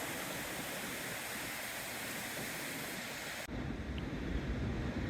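Floodwater rushes past an old mill, a loud, constant roar of churning water that fills the whole clip with steady broadband noise and slight wind buffeting.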